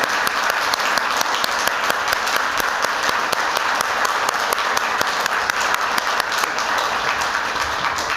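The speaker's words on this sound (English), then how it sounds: "I'd love for everybody to give them a big round of applause for their efforts" An audience at a State Board of Education meeting claps steadily, a dense, even applause that holds at full strength throughout without letting up.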